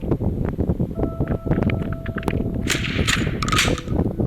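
Rapid bursts of gunfire in the video game Mini World, a dense stream of sharp cracks and pops with a few metallic clangs, loud and continuous.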